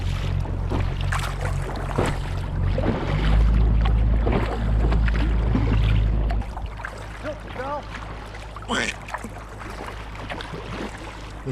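An inflatable Sevylor kayak pushes through waves on the Aire & Calder Navigation, a steady loud wash of water and wind rumble with splashes and a few cheering voices over it.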